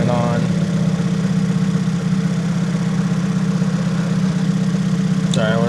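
A car engine runs steadily in a workshop, a loud constant idle hum with a strong low drone, and a brief rising whine near the end.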